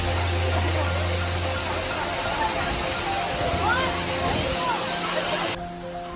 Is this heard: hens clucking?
no